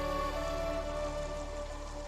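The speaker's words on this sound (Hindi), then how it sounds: "बारिश शुरू हो गई बाहर तो।" Steady rain falls outside as a continuous, even hiss with no pauses and no voices, and a faint sustained tonal hum runs underneath.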